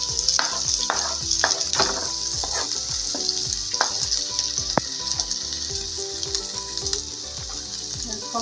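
Onion, garlic and crushed ginger sizzling in hot oil in a pan, a steady loud frying hiss with repeated scraping stir strokes of a spoon throughout, no voices.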